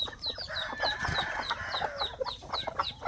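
Chickens cluck repeatedly in a busy farmyard, with brief higher calls scattered throughout, close and fairly loud.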